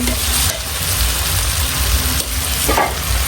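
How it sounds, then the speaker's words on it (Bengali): Crushed olives are mixed into oil for pickle, producing a loud, continuous hiss with faint stirring scrapes close by. "থেতলানো ইয়ে জলপাইগুলো দিয়ে দেওয়া হবে তেলের ভিতরে এখন খুব সুন্দর করে মিক্স করে নিতে হবে"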